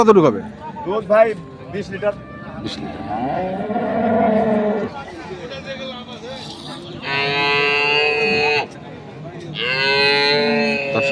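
Dairy cows with calves at Ambari cattle market in Dinajpur give loud, drawn-out moos, two long calls in the latter half, after a stretch of nearby market voices and bustle.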